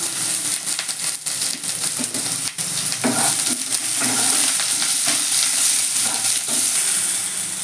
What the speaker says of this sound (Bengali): এবার আমি ওই তেলের মধ্যেই প্রথমে বেগুনগুলোকে একটু হালকা করে ভেজে নেব